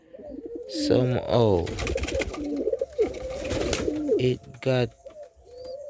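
A Capuchine pigeon at a breeding loft in Jamaica gives repeated deep, throaty coos close by, in short rhythmic bursts, while someone talks over and between them.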